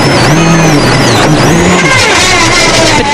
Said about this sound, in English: But that's the sound of a broken wheel.